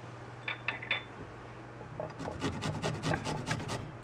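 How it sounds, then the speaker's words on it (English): A rasp grater shreds garlic up close, first a few light scrapes, then a quick rhythmic run of rasping strokes, with no talk over it. "These rasp graters are really quite wonderful."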